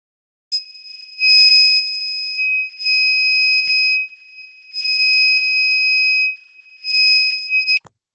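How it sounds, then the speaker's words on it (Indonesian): A gas leak alarm buzzer sounds loud and shrill in four long, evenly spaced beeps, each lasting about a second, with near silence between. "lampu LED merah akan menyala dan buzzer akan berbunyi"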